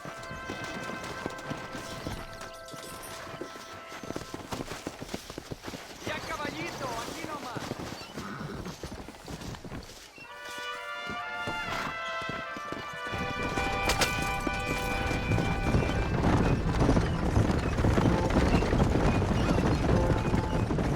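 Hooves clip-clop steadily as horses gallop with riders in Red Dead Redemption, a close, driving rhythm that grows louder toward the end, with voices talking over it and a horse whinnying.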